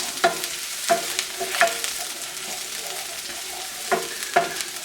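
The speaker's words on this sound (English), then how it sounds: "the garlic, and the ginger. We are just going to stir this up until it's nice and fragrant." Garlic, ginger and chili peppers sizzle steadily in a hot pan for kung pao tofu, with a spoon stirring and scraping in occasional sharp clacks over the constant frying hiss.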